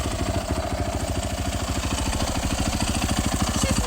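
Dirt bike engine idling steadily after a repair, with a fast, even putter and mechanical clatter close by, loud and unbroken with no talk.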